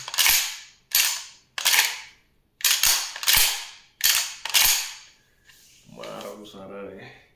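A toy Remington-style pump-action shotgun, an 18.5mm/12-gauge replica of hard plastic, is racked about seven times in sharp, loud mechanical clacks spaced roughly half a second to a second apart, with someone talking briefly at the end.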